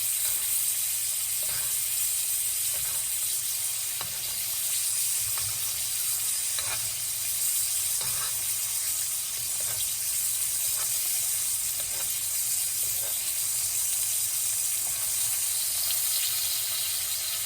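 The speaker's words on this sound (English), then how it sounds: "just start basting your steak" Steak basted in a hot pan over medium heat, with a constant loud close sizzle and faint periodic taps from the spoon running the whole way through, with no voices.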